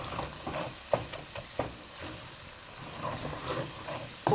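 A spoon stirs tomato paste through a pot of healthy chili with beans, scraping and clacking against the pot in a few sharp knocks over a soft, steady sizzle, close and moderately loud, with no voices.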